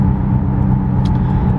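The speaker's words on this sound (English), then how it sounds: "Starting with this car, I had a Catback Nameless exhaust with the 4-inch mufflers" A Subaru STI with a Nameless cat-back exhaust and 4-inch mufflers drones with a deep, loud, steady rumble at a constant idle or cruise, close to the tailpipe and without speech.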